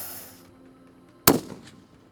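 A single sharp rifle shot from a Christensen Arms Automatic in 6.5 Creedmoor, fired at a silhouette target 700 metres away on an outdoor range, loud and abrupt with a short decaying tail.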